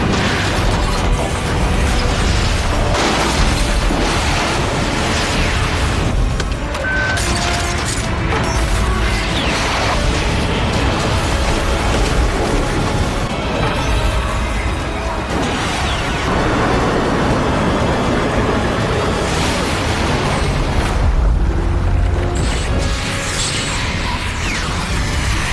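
Ballistic missiles strike a giant golden-horned monster in an animated battle, filling the scene with continuous heavy booms, blasts and crashing debris, loud and dense for the whole stretch.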